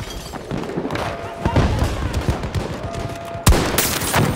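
Gunfire in a sniping video game during a mission to guard explosives, with bursts of shots and booming impacts running throughout, a sharp loud blast near the end, over busy game noise and voices.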